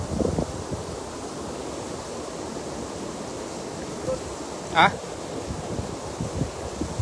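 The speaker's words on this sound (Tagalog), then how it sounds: "Lakas yung hangin na saka yung tubig tol." Strong wind blowing by the water at a fishing spot makes a steady, fairly faint broad hiss with slight gusting. A short spoken interjection comes near the middle.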